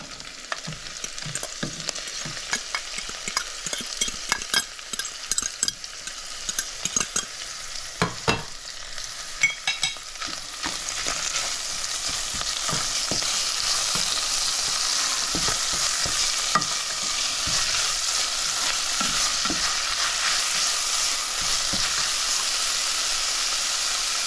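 Salted fish frying in a hot pan, giving a steady loud sizzle and hiss as a utensil scrapes and stirs it. The rhythmic stirring clatter gives way to a denser, continuous frying roar.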